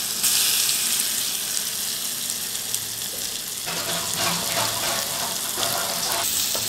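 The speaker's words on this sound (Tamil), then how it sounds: "நல்லா எண்ணெய் காஞ்சிருச்சு, இந்த உருண்டையை இதில் போட்டுருவோம்." Balls of ground herbs dropped into hot sesame oil in a ladle give a loud, steady sizzle close by, which turns into a busier, crackling bubble partway through, with no talk.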